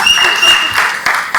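Audience applause at a film pre-release event for Shakthi Thirumagan, a short dense burst of clapping that swells and dips, with a steady ringing tone from the hall sound system underneath.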